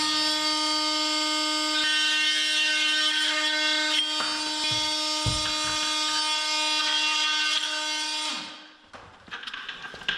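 A power saw whines steadily through a cut for about eight seconds, then winds down, followed by light clattering.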